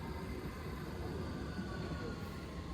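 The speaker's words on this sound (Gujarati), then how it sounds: "ટ્રેન આવી ગઈ છે," A train pulls into a station in London, a steady low rumble and rolling noise that stays constant and fairly close throughout, with no talk.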